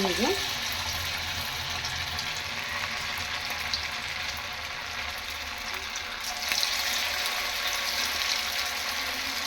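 Maharashtra-style sabudana vada patties fry in hot oil with a loud, steady, close sizzle throughout that briefly swells brighter partway through.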